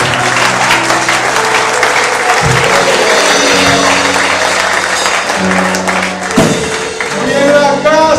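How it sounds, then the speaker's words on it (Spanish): Applause for the King during a church service rolls on continuously over accompanying music with sustained keyboard-like tones, loud and enveloping from start to finish. "Dale un aplauso al Rey si puede."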